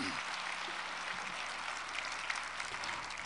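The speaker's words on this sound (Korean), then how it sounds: "오랜만에 모교를 찾아오신 대선배님들을 큰 박수로 환영해 주셨으면 합니다" Audience applause in a university hall welcoming senior alumni, a dense continuous wash of many hands clapping, steady and fairly distant, with no clear speech over it.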